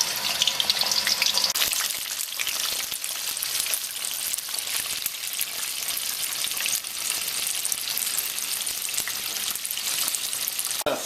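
Chickpeas fry in hot oil in a pan over medium heat, giving a steady, dense, loud sizzle that runs without a break from start to finish, with no voices.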